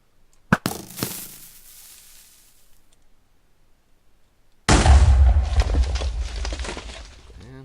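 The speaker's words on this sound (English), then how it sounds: "we'll see if we get a different explosion pattern here" A TNT blast set in the center of a block cube during a mining experiment: a sharp crack near the start with a fading tail, then quiet, then a loud, dense, sustained roaring burst that rolls on to the end.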